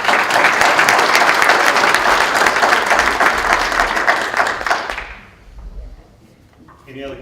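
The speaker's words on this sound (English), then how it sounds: "And round of applause for that." Meeting attendees give a round of applause, a dense, fairly loud burst of clapping that carries on for about five seconds and then stops abruptly, followed by quiet room sound and a brief voice.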